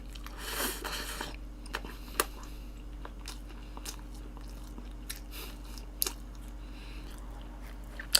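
Someone eats garlic pizza dipped in garlic sauce, with a rustle followed by soft, close chewing and occasional sharp crunchy bites spaced out over a steady low hum.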